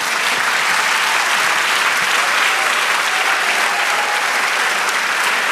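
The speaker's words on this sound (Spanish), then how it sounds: "Dale aplauso al Señor." A church congregation applauds during a Spanish-language sermon, a dense, continuous wash of clapping from a large crowd that stays loud and even from start to finish.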